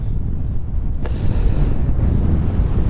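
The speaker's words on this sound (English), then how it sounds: "The wind's just whipping over the top." Wind gusting over a tarp and bivi camp in Scotland's Southern Uplands, a steady loud rush of air buffeting the microphone for the whole stretch, with a brief flap around the middle.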